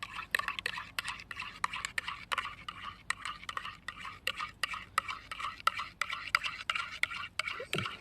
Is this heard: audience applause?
no